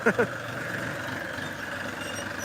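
A tractor ploughs a rice field at night, its engine a low, steady, fairly distant hum, with two brief clicks right at the start.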